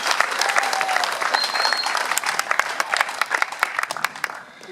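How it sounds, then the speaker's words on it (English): Graduates and guests applaud their instructors at a welding academy closing ceremony, full dense clapping that thins into scattered individual claps before fading. "I would like to maybe have you guys give a round of applause to your instructors"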